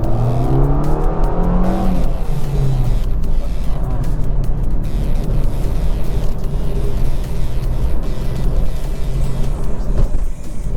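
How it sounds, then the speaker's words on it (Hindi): A 2018 Suzuki Dzire sedan's engine hums steadily while driving, a loud continuous drone with a brief rising whine near the start. "ठीक अछि, गाड़ी गोटे राउंड दबे कि देखिबा"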